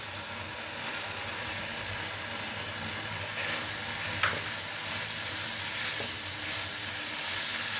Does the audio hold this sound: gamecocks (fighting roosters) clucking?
no